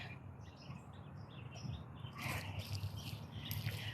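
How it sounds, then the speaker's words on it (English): Birds chirp outdoors in early spring near a muddy patch of broken concrete, with scattered short tweets over a soft outdoor hush that thicken into busier calls toward the end; no one speaks. "And I can hear some birds."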